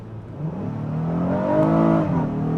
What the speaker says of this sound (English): Try a moving pull, see if it puts the power down. Moving pull on the gas.